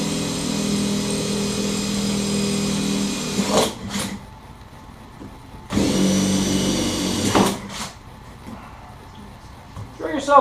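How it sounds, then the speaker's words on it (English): A power drill bores holes around the inside ring of a part: two loud, close, whirring bursts, a longer one of about three seconds and then a shorter one, with quiet pauses and handling clatter between. "Drill yourself some holes."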